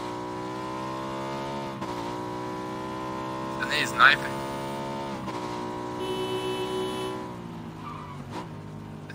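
A motorcycle in a multiplayer video game hums with a steady engine drone, a brief tire squeal cutting through near the middle, while several players talk over it throughout.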